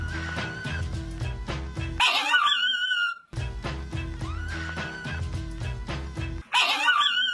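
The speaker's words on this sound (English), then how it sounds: "that dog has been hitting all those notes" A dog barks and yips in quick rhythmic bursts set to a musical backing, with a whimpering, note-like yelp as the phrases repeat, loud and up front.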